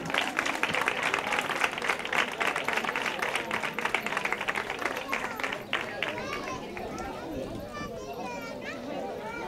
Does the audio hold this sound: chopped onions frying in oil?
no